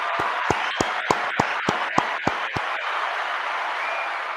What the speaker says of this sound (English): Round of applause for Zeke.